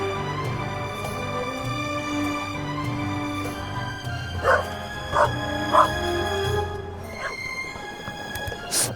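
A dog barks repeatedly in the video game The Raven Remastered, several sharp woofs and yips rising over a tonal music-and-ambience bed, mid-distance and fairly loud.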